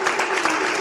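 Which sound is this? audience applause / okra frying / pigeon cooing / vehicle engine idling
audience applause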